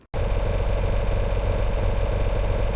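Lawn mower pulling tractor engine at a pulling event in Mansfield, Ohio, bursting in after a brief silence and holding a loud, steady, buzzing roar with a fast rhythmic pulse throughout.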